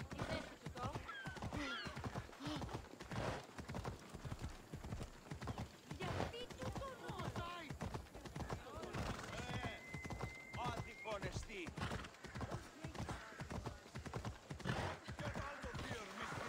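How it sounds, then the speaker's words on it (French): A horse in the video game Assassin's Creed Odyssey trots with steady, rhythmic clip-clop hoofbeats and gives a whinny, while someone talks over it throughout. "Très réaliste comme cheval."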